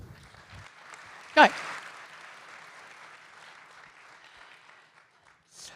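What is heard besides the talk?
audience applause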